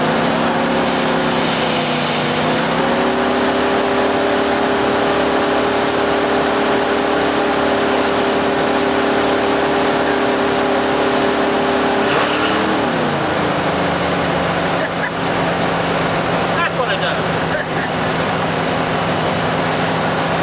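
A Lincoln car's engine idles steadily, then is given a little gas, its pitch climbing for a stretch before settling back to a lower, even idle, with a few faint clicks near the end.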